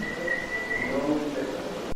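A faint, thin whistle-like tone drifts at the start of a noisy paranormal recording, steady then wavering, ending with a sharp click.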